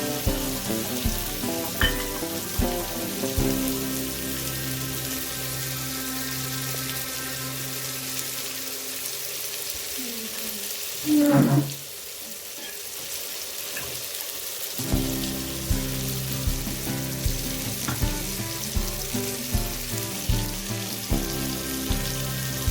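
Egg biryani masala sizzling and frying steadily in a pan after curd is stirred in, with a brief watery burst midway and continuous close bubbling hiss throughout.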